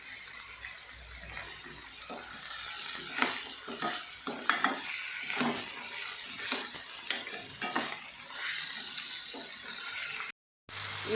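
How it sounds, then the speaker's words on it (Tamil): Mixed vegetables and peas sautéing in a pan for a Tamil white kurma, a continuous moderate sizzle with stirring scrapes and occasional louder crackles throughout, no voices. "இது நல்லா வதங்கட்டும்."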